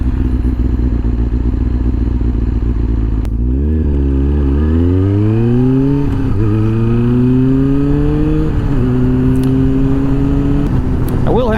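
A 2007 carbureted Kawasaki ZZR600 motorcycle engine drones loudly while riding, climbing through several rising revs with brief dips at gear changes, close and steady under wind noise.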